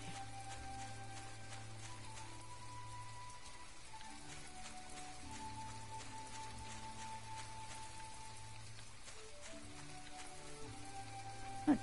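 Steady, soft rain falls in the video game My Time At Portia, a faint continuous patter under quiet in-game music.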